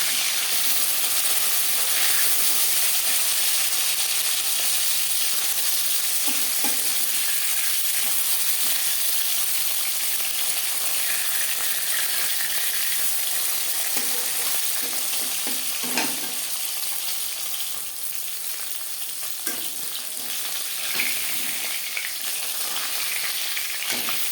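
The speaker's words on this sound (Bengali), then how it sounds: "মাছ একটা সাইজ ভাজা হয়ে গেছে অপর সাইজটা" Pieces of rui fish fry in hot oil in a pan, producing a loud, continuous close sizzle and crackle for the whole stretch, with occasional soft knocks from turning the fish and no talking.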